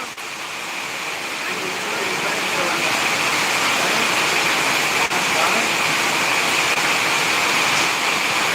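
Heavy rain in Madurai falls as a loud, unbroken rushing wash of water close by, with a faint voice or two barely audible beneath the downpour.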